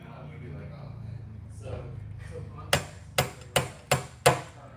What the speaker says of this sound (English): grab the slide hammer